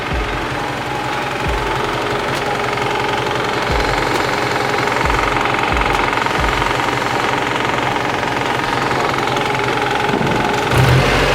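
A Mazda Miata engine idles roughly at very low revs, a steady loud chugging with periodic uneven knocks and pulses running throughout, close and without talk.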